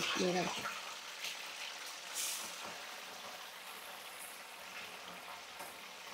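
Homegrown garden vegetables sizzle in a pan, a soft steady frying hiss that continues throughout, quiet and close, with someone briefly talking at the start.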